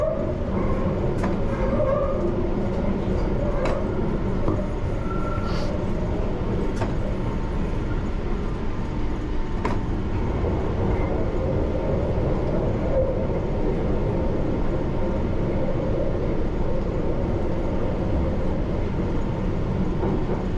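A London Underground train runs at speed with a loud, continuous roaring rumble from the rails. Faint high squealing tones rise now and then above the steady din.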